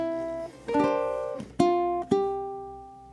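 Ukulele playing the closing bar of a song in a country style, a few plucked notes and strummed chords ringing out in waltz time, clear and close with nothing else heard.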